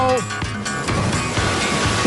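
Water gushes loudly and steadily out of a fuel dispenser pump cut open from underneath, a continuous rushing splash like surf that fills the whole stretch, with brief tonal squeaks at the start and end.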